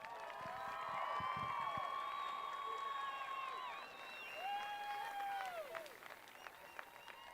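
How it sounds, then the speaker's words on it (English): A crowd at the 2022 Douglas County High School graduation applauds, with a brief burst of clapping giving way to sustained whoops, shouts and high cheering voices rising over the hall. "And a round of applause."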